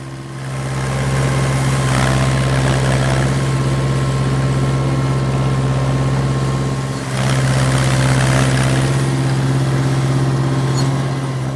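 A 50-year-old backhoe engine runs loud and steady at close range with a deep, even drone as the machine inches forward, the drone dipping briefly once before settling back; no one talks.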